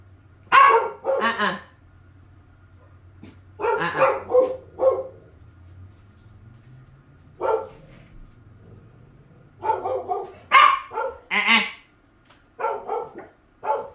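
Several dogs bark indoors in a home in short bursts spread across the span, fairly close and loud against a quiet background with a low hum.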